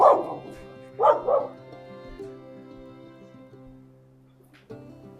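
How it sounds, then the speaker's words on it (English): A dog indoors gives two sharp barks near the start, then falls quiet, with a faint hum of appliances and a final soft thump in the background. "Yeah, I don't know what she's barking at."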